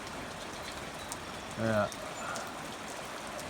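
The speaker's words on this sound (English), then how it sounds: "It's a slow, steady rain, so if it's going to rain, that's the way to do it" Slow, steady rain falls on pasture in calm weather, a soft, even hiss that runs throughout with a brief spoken word partway through.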